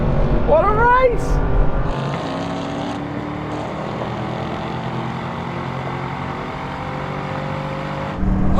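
Several Ford Mustangs, first generation through the latest seventh generation, roar through a drag race, a loud sustained engine drone with rising pitch sweeps at the start, continuing steadily with a swell near the end while voices are heard.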